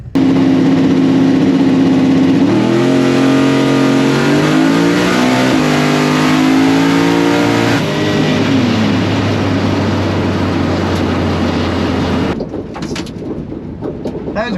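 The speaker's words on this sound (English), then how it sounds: "That was a good drag race." Small tire drag race cars roar down the strip, engines loud and sustained with rising and falling pitch through gear changes, the sound staying strong for about twelve seconds before cutting off abruptly.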